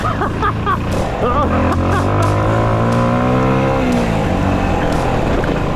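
A small mini dirt bike on dirt tires rides a sandy trail, its engine revving and shifting pitch continuously up close, with wind rumble throughout.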